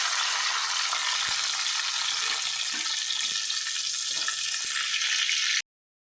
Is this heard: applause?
no